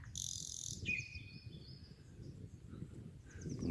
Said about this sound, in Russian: послушайте, как заливается соловей